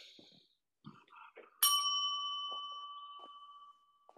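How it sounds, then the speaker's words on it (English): A single bright bell strike rings out clearly and sustains, slowly decaying for about two seconds, with brief bits of talk and small noises around it. "What is that bell?"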